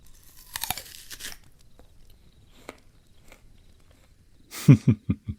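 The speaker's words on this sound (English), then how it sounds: "Take a nice big girl bite out of that tasty, juicy red apple." Someone bites into a juicy red apple, giving a crisp crunch followed by a few close, loud chewing crunches in a quiet room.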